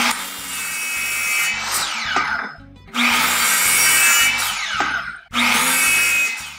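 A saw cutting rough-sawn walnut boards about 1.5 inches thick, heard as three loud, close sawing passes separated by brief pauses, each a rasping, gritty cut that tapers off near its end.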